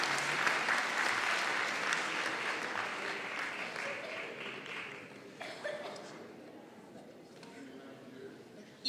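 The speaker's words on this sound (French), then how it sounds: "Applaudissez-les." Audience applause at a Miss Excellence Picardie beauty pageant, sustained clapping from a crowd heard a little distant, with chatter and voices mixed in before it thins out.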